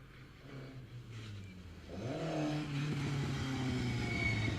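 Mark 1 Ford Escort rally car approaching on a rally stage, engine note rising and growing louder as it nears, with a steady drone and revving building toward the end.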